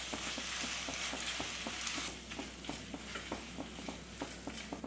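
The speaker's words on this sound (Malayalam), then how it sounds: "എല്ലാം കൂടി ഒന്ന് ഇളക്കി കൊടുക്കാം." Green chilli sauce and dark soy sauce sizzle in a hot pan for an egg roast while a spoon stirs them with regular scraping taps. The frying hiss is steady and close, and no one speaks.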